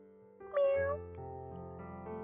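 A cat gives one drawn-out meow, clear and close, over a low steady background hum.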